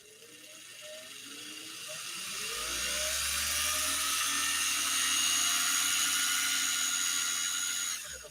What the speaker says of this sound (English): And now we're going to see if we can wind this bobbin